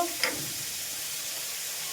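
A garlic tempering sizzles in a pan, a loud, even, close-up hiss with a brief crackling burst near the start.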